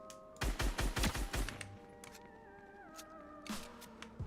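A gun firing in Fortnite zero build: a quick string of about six sharp, loud shots in steady rhythm, then quieter game tones and a couple of isolated cracks, with a final short burst near the end.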